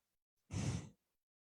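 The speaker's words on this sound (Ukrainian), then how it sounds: "Вдих і видих." A single slow breath during a guided stretching and breathing exercise, soft and close, rising and fading over about half a second, with no talking.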